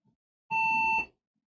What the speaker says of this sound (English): it's beeping again.